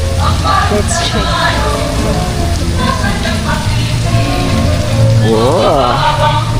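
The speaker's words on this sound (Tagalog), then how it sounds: "unfortunately, it's raining." Steady rain patters on surfaces outdoors at the Las Casas Filipinas de Acuzar heritage town. It makes a constant close hiss, and a voice speaks briefly over it.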